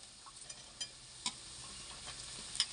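Okra and browned onions frying in a pan for a dal-bhindi dish, with a soft steady sizzle broken by a few light scraping stirs and small ticks of the spoon against the pan.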